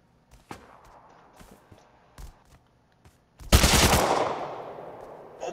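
An AK rifle fires in the console version of the game Rust: scattered single shots and footsteps first, then a loud close burst of rapid automatic gunfire that rings and decays over the next two seconds.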